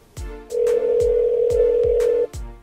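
A ringback tone on an outgoing telephone call, heard as one long steady electronic buzz of about two seconds, clear and close, with brief sharp clicks before it and after it.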